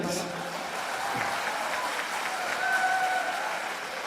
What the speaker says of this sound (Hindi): आप तालियों से इस्तकबाल करें।